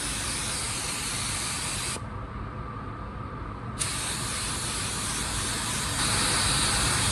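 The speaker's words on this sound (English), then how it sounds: "So I'm gonna turn my fan back here a little, check it." A paint spray gun with its fan opened sprays car paint in a continuous loud, close hiss, briefly dropping and changing tone for a couple of seconds mid-burst before resuming steadily.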